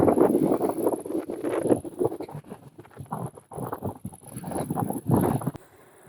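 Headwind buffets a microphone while cycling on open terrain along a rural road in the Chełm–Krasnystaw area, producing irregular rumbling gusts and dull thumps that swell and fade, with no talk.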